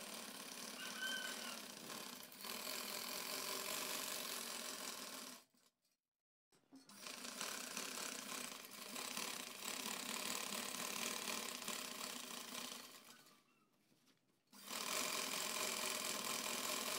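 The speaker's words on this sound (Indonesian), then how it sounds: "Jahit pada bagian yang sudah dijelujur." A sewing machine stitches the basted seams of a camisole or bustier, both outer fabric and lining, running in two long steady bursts with a brief pause between and a third starting at the end, close and alone.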